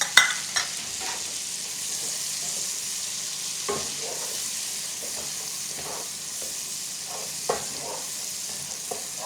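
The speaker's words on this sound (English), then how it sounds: "I'm going to saute the celery and onion for about a minute or two." Chopped celery and Vidalia onion sauté in melted butter in a pan, giving a steady close hiss broken by a few soft stirring scrapes and taps, with no voices.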